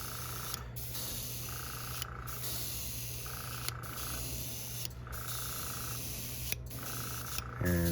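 Airbrush spraying pink paint onto a topwater popper fishing lure at low pressure, a steady close hiss running throughout with brief pauses between passes.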